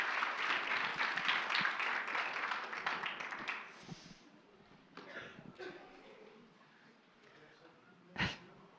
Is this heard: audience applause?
yes